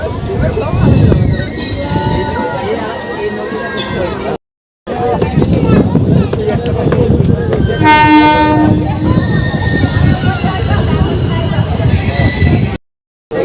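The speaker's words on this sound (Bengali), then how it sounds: "রামনগরে ক্রসিং হলো দীঘা হাওড়া তাম্রলিপ্ত এক্সপ্রেসের সাথে।" Two trains cross at Ramnagar, one being the Digha–Howrah Tamralipta Express: a loud close rumble and rattle of coaches with horn blasts, the longest around the middle, while voices carry on nearby.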